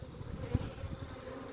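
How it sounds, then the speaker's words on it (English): Honeybees crowded inside a tipped-up nuc box give off a faint, steady low buzz that holds throughout, with one brief louder bump partway through. "There's such a box of bees. They're very, very animated in there."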